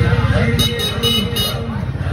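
Street traffic during an Eid Milad-un-Nabi procession, with car horns tooting over a noisy roadway background and people talking nearby.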